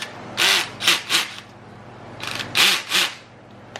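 A cordless drill set to a low clutch setting spins in several short bursts, three quick whirs then a pause and three more, close and fairly loud with no talking.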